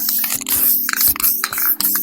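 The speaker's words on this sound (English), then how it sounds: "I'm just going to spray over the surface of it and just a light coat." Aerosol spray of black lacquer misting a light coat over the surface of a mid-century modern wooden table, heard as several close, loud hissing bursts with brief pauses between them.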